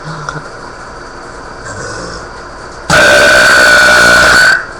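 A long, loud burp rises abruptly out of quiet room noise and holds steady for almost two seconds before cutting off, with faint background sound before it.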